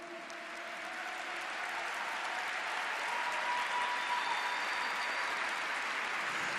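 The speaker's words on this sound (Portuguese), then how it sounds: "Pode aplaudir o Senhor." Crowd at a Catholic church camp applauding the Lord, sustained dense clapping that swells slightly and holds steady, fairly loud and alone with no talking.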